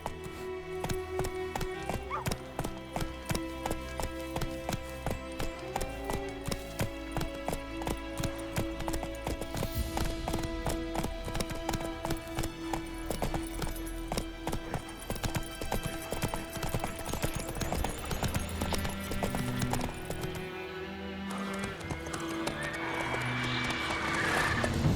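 Horse hooves gallop in a steady clip-clop rhythm inside The Witcher 3: Wild Hunt, close and loud, with game music and ambient sound playing underneath.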